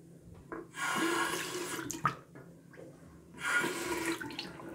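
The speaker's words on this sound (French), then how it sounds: "On va tout simplement faire couler de l'eau." Water runs from a bathroom tap in two bursts, each a steady rushing hiss that starts and stops abruptly, close by, with a brief clunk between the bursts and no talking.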